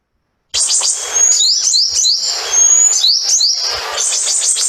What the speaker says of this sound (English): Again, a very tiny bird, very chirpy bird.